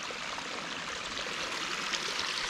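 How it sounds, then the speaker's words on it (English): A small waterfall at Mineral Springs, North Dakota, about six feet tall, gives a steady close rushing splash of falling water with no pauses or voices. "This is North Dakota's only registered waterfall"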